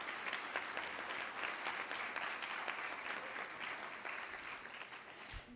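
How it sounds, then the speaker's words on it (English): A conference audience claps steadily for the sponsors and exhibitors, a dense, even wash of many hands filling the room for several seconds before tapering off near the end. "So can I ask you all to give the sponsors and exhibitors a big round of applause?"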